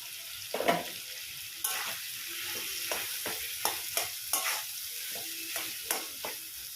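Mashed boiled potatoes stirred with spices in a hot pan, a low steady sizzle under repeated scraping strokes of the spoon, close and without talk.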